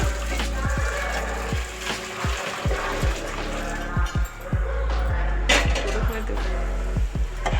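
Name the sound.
hot water poured into a pressure cooker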